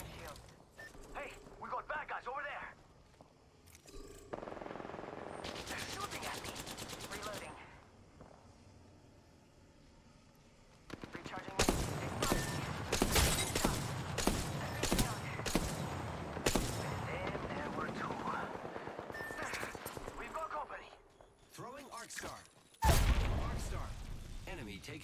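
Gunfire in the shooter game Apex Legends: sustained stretches of rapid shots and mechanical clatter, loud and dense, with character voice lines and players talking over much of it.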